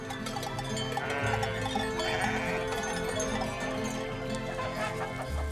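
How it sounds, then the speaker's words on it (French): Sheep and goats bleating on a Greek feta farm at about 1000 metres altitude, several calls overlapping with a clanking bell over a continuous outdoor bed, some near and some farther off. "Des brebis, mais aussi des chèvres"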